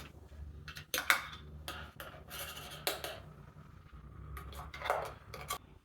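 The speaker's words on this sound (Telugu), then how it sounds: "దీన్ని ఇప్పుడు ఈ మట్టి కుండలో వేసేస్తున్నా." Mango paste is scraped and tapped into a clay pot, with short clinks and scrapes of a utensil against the vessel, close and fairly quiet, in irregular bursts.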